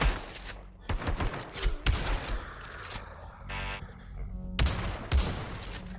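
Gunfire in the VR shooter Pavlov in a dark shack map, a series of sharp, loud close shots in quick bursts and single cracks, with a brief mechanical whir between volleys.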